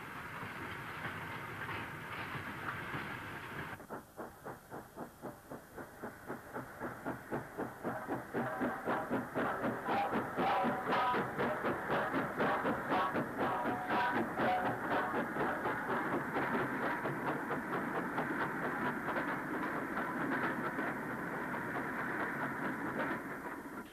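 A Stanier 2-6-4 tank steam locomotive, number 42656, works a parcels train, with a sharp start followed by steady, rapid exhaust beats and rhythmic wheel clatter that grow louder and hold on for about twenty seconds.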